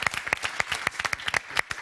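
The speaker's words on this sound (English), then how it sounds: "Round of applause for Lars Holland." An audience applauds at a televised debate on European innovation, giving a short burst of crisp, individual claps close by with no one speaking over it.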